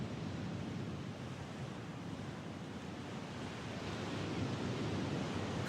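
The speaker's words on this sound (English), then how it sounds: "The rising tide fills the bay to its brim." Ocean waves of a rising tide washing into a bay, a soft continuous rushing hiss with gentle swells, faint and distant, with no voices.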